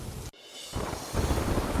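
Heavy monsoon rain in Valsad district, Gujarat, makes a dense broadband hiss. A sharp break comes early, then the downpour swells louder with a rumbling, thunder-like low end and no speech.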